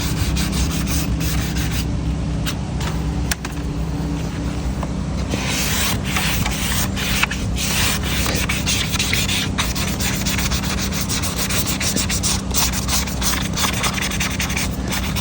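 A sponge scrubs steadily over a painted wooden rocking chair, a continuous close rubbing and scraping with no pauses and no voices.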